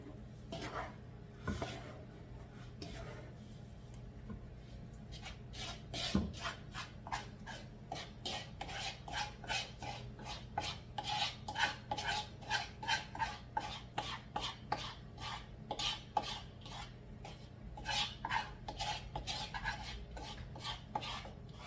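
A spoon stirs cornbread batter in a bowl, making quiet, steady, rhythmic scraping and clicking strokes that repeat in a brisk series for a long stretch.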